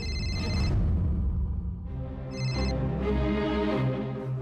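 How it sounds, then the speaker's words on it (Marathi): A phone rings loudly and close by with a repeating electronic ringtone melody, unbroken, and no one speaks. "पारूचा फोन।"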